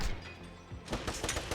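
Gunfire in the video game Wanted: Dead crackles as a quick burst of sharp, moderately faint shots rattling in the second half of a brief clip.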